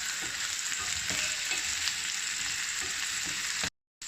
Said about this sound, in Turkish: patateslerimi çok azıcık yağda hafif şöyle tamamen kızartmıyorum